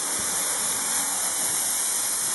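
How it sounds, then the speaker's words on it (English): A steady, even hiss of water-based adhesive being sprayed onto mattress foam during mattress building, loud and continuous with no breaks and no voices. "now what he's spraying down is a water-based adhesive"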